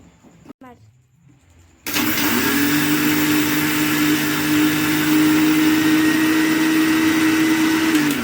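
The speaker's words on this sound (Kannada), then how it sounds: "ಆಮೇಲೆ ಕೊಬ್ಬರಿ ಮಿಕ್ಸರ್ ಹಾಕೋದು" A kitchen mixer grinder whirs loudly and steadily, grinding dry coconut and sugar for suruli holige, starting abruptly after a short stretch of quiet talk and running on alone.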